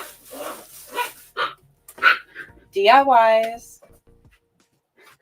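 Puppies bark and yip in a short burst partway through, rising in pitch, while a person talks over and around them indoors.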